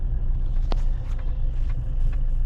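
Car driving on the way to deliver raspberries in Lubny, a steady close-up low road rumble throughout with a faint brief tick or clank partway, no talking.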